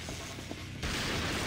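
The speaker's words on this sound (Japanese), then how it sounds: "爆発。" Explosion in the video game Crisis Core Final Fantasy VII: a busy stretch of game noise gives way partway through to a loud, sustained roaring blast that fills the rest of the clip.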